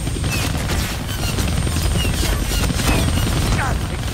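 Helicopter in the Deadpool video game, a loud continuous rotor chop mixed with bursts of gunfire and mechanical clatter, with no pause.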